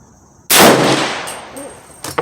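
A single sharp, loud gunshot from a free-floated Hi-Point 1095 10mm carbine fired at a 100-yard target, cracking close by and decaying over a second, followed by faint clicks and handling sounds.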